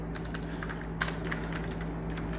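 Rapid typing on a computer keyboard while writing React code, with irregular clusters of soft key clicks over a steady low hum, no voices present.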